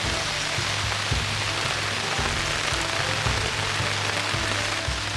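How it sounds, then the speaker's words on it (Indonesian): Heavy rain pours on a forest shelter at night, a dense, steady roar of drops drumming on the covering with no pauses, loud and close. "hujan yang turun sangat deras yang membuat shelter kami mengalami kebocoran"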